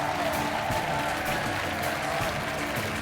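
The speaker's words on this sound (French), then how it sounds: "Sur vos applaudissements." A TV game-show studio audience applauds continuously, a dense, even wash of clapping that holds steady for the whole stretch.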